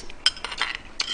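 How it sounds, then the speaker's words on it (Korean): A metal spoon scraping a rice bowl at a meal of braised chicken with aged kimchi, several short sharp clinks and scrapes in an uneven rhythm, close and fairly quiet. "밥그릇 긁는 소리 죄송합니다."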